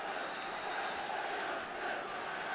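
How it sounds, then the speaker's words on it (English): Football crowd at Stamford Bridge during a 1976 Chelsea match, a broad distant roar of chanting and cheering rising and falling slightly, steady and fairly faint throughout. "that's got the crowd going"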